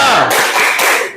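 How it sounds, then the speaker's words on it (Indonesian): Loud, close clapping from a classroom of students doing a rhythmic spirit clap, a quick burst of sharp hand claps that fades out after about a second. "Tepuk semangat."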